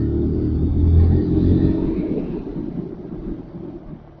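A freshly serviced Yamaha motorcycle in Kolkata, with new discs, brakes and rods, rumbles on a test ride. The loud, steady engine drone comes with wind buffeting and eases slightly toward the end.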